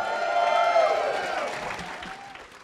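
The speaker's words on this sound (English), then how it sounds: "Let's give a big round of applause." A live convention audience at Dragon Con gives a big round of applause, with loud whoops and cheering riding over dense clapping that slowly fades.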